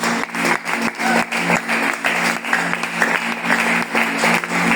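A church congregation applauds together, a dense wash of clapping with rhythmic surges over a sustained musical tone, loud and close.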